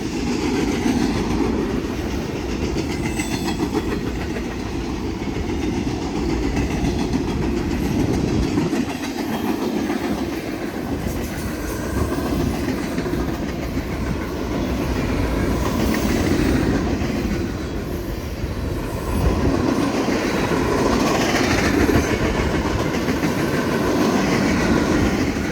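A freight train rolls steadily past close by, its wheels rumbling and clacking on the rails for the whole stretch.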